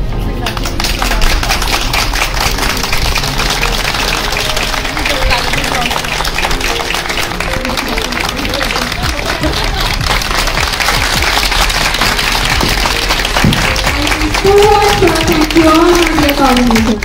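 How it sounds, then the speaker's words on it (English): An audience at an inauguration ceremony claps in a steady, sustained round of applause, dense and fairly loud, with a voice speaking over it near the end. "I humbly request everyone to give a huge round of applause."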